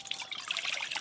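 Water poured into a cooking pot to boil spinach, a brief close trickling splash.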